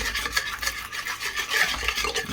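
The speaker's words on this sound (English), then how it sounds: "Keep whisking it as it's going in." Custard mixture whisked briskly in a bowl makes a rapid, rhythmic scraping and swishing, close and steady, with no voices.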